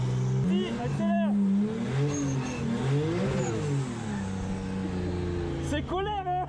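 A BMW E82 drifting for the first time, its engine droning steadily with rising and falling revs under loud, near speech throughout.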